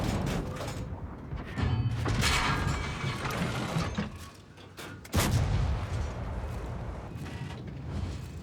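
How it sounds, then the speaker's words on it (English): Artillery fire in a World of Tanks-style game with a Super Conqueror tank: sharp, heavy shell impacts around 2 and 5 seconds cut through a loud mechanical engine and track rumble, with no talking. "That's what artillery should be doing."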